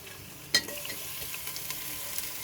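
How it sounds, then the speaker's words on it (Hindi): Mutton neck pieces fry with sautéed onions in a pan, giving a soft, even sizzle at low volume, with a single sharp clink early on. "हम इसको थोड़ा सा इसके साथ फ्राई करते हैं।"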